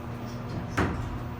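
A Thyssenkrupp hydraulic elevator door at a Holiday Inn in Michigan closes with a single soft thud over a low steady machine hum.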